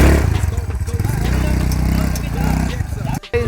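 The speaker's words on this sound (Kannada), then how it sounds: "4 ವೀಲ್ ಬೈಕ್ನ ಓಡ್ಸಕ್ ಹೋಗ್ತಾ ಇದೀವಿ." A four-wheel quad bike engine putters and revs nearby in a steady, pulsing drone at a creators' meetup, with people talking over it and a brief cutout near the end.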